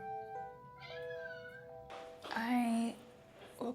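Cats meow at feeding time in a home, several drawn-out tonal calls, the loudest one near the middle, close to the microphone.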